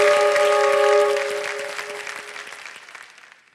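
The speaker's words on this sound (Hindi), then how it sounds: "तो एक बार फिर उनको हम ताली बजाते हैं" Studio audience applause on a TV quiz show set, loud and dense at first with a sustained tone beneath, then thinning and fading over a few seconds.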